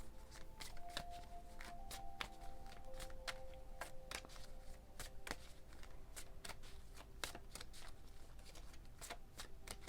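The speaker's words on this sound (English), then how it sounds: "I'm gonna start cutting the deck because my shuffle game be a little off sometimes" Soft, close shuffling of a tarot card deck with crisp riffles and taps scattered throughout, over a quiet low hum and a faint tonal background.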